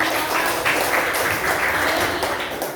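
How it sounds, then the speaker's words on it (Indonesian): Students in a Grade 8 social studies classroom clap for a classmate, giving a short, dense burst of applause that stays steady and close throughout. "Beri tepuk tangan dong"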